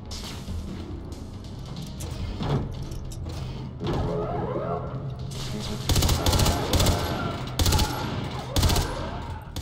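Automatic gunfire in the Far Cry 3 Blood Dragon video game, a loud continuous stream of rapid shots with heavier bursts and booms toward the end, under a busy game soundscape.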